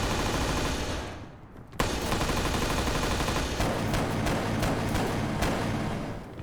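Rapid gunfire in the military shooter Arma 3 aimed through a building wall, with dense loud bursts of shots after a short lull, heard close up with no talking.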